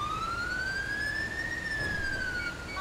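A tow truck's siren in the video game GTA 5, driving through Paris, wails as a single loud, continuous tone that rises slowly and then dips, heard close and alone without talk.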